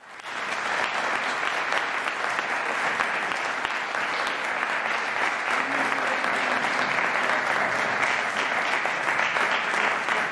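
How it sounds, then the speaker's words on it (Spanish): Sustained applause from a lecture audience after a talk on Spanish history, steady and even clapping for about ten seconds without pause. "Dale un aplauso"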